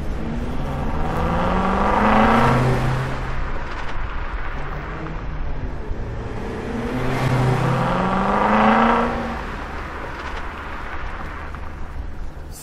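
An old car engine revs up twice in slow rising-and-falling surges, each swelling loud around a steady low rumble and then easing back, with no voices over it.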